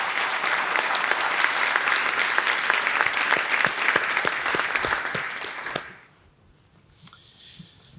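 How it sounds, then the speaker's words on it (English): Applause from an audience at a public records and governance conference, steady clapping for several seconds that stops abruptly, leaving a quiet room with a few stray claps. "Let's welcome them to the stage with a round of applause."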